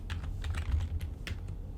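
Close computer keyboard typing while entering C# code: a quick, irregular run of light key clicks and taps over a low steady hum, with no talk.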